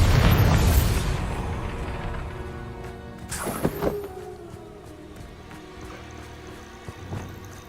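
A Bombarda blasting spell from Hogwarts Legacy booms loudly and close at the start, then fades into a rumbling tail, with a second, sharper burst a few seconds later.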